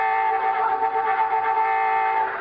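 A loud, steady horn blares continuously in a single sustained honk of a few seconds, with no talking over it.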